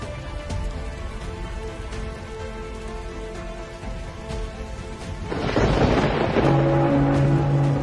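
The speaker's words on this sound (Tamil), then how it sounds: "குப்பை தொட்டியில் மழை பெய்யுது" Rain falls steadily onto a rubbish bin in a film scene, a continuous wash of patter that swells noticeably louder partway through, with a faint low rumble underneath and no voices.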